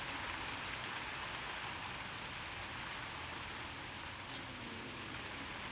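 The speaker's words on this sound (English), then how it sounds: "It sounds like it's raining outside." Steady, even rain hiss in Cars 3: Driven to Win fills the whole stretch, a dense broadband patter with no breaks and no voices.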